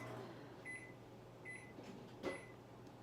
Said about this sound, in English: The microwave's done.